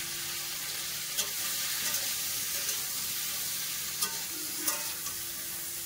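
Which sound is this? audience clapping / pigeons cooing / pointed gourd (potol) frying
pointed gourd (potol) frying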